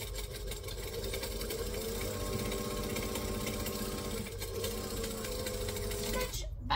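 A sewing machine stitches and backstitches a craft tote, its rapid, even mechanical whirr running steadily for several seconds before stopping with a brief clunk at the end.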